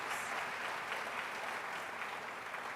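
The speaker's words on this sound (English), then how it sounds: "I think that deserves another round of applause." At a university celebration of KNUST's seventy years, a crowd gives another round of applause, a steady, even wash of clapping that sounds distant and fairly soft.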